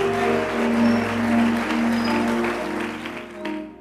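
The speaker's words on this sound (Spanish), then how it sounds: "Dale fuerte esas palmas al Señor" A congregation claps for the Lord during a church service, a dense, sustained wash of applause over a held musical tone that fades near the end.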